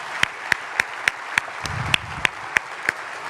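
Audience applause at the close of a live-streamed event, sounding as a run of sharp, evenly spaced claps above a soft background wash of clapping.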